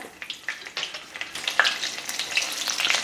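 Cumin seeds, green chili, bay leaf and whole spices sizzle in hot oil and ghee, a close, crackling fry with sharp pops and spits that grows busier toward the end, with no talk.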